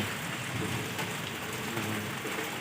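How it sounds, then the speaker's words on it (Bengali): Heavy monsoon rain pouring down steadily, a dense continuous wash of falling water and drops striking surfaces nearby, loud and unbroken with no voices. "আমাদের এখানে কত বর্ষা দেখুন আপনারা একদম পুরো জলে জলময়"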